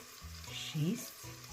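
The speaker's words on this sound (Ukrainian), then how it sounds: "Вмикаємо режим смаження і смажимо подрібнену моркву і цибулю хвилин 5-6." Chopped carrot and onion fry in a multicooker with a soft, steady sizzle close by, broken by a brief stirring scrape midway.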